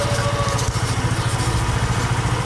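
A motorcycle engine idling up close, a loud, steady, rapid low putter with even pulses and no revving.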